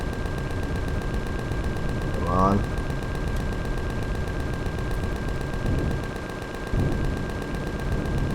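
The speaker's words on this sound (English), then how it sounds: "The cannon turrets are getting to work on it now." Cannon turrets firing in the space survival game Empyrion, a steady barrage of muffled booming shots with a brief louder burst, running under continuous game noise while a voice speaks briefly.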